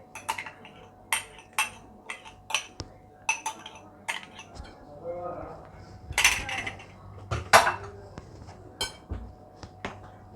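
Yeast being stirred into warm milk in a bowl, with a steady run of close, sharp clinks and taps of a utensil against the bowl in an irregular rhythm.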